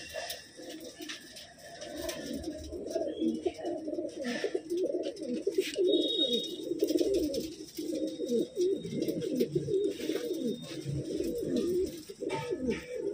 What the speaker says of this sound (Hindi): कितने कबूतर हैं ये?